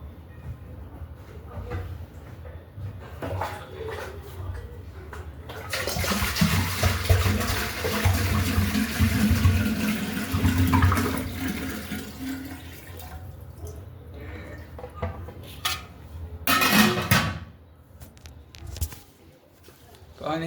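Water pours from a bottle in a steady gurgling rush for several seconds, close by, framed by someone talking before and after and a few clicks and knocks.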